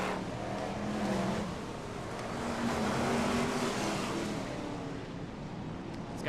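BriSCA Formula 1 stock cars race down the back straight at a 1992 Birmingham heat, a steady, dense engine roar that swells and fades slightly as the pack passes, with crowd and track noise mixed in.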